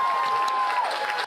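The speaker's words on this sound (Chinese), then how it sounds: "一间民间太空公司的员工拢欢喜甲拍手欢呼" Staff of a private US space company in a mission control centre clap and cheer a successful moon landing, a brief burst of dense crowd applause and whooping with a thin steady tone running underneath.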